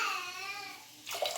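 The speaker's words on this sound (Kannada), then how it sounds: "ಹಾಗೆ ಈಗ ನೀರಿನ್ನು ಹಾಕೊಂಡು ಬಿಡೋಣ." Water is poured into a bowl of curd rice, making a rising, gurgling stream, followed by a brief splashy burst at the end.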